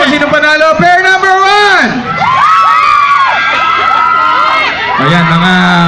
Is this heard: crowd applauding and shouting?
yes